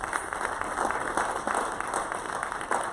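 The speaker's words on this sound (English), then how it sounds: "So let's give them also a big round of applause." Applause from attendees at a school board regular session, a brief, dense patch of many hands clapping with a roomy, slightly distant quality and no voices over it.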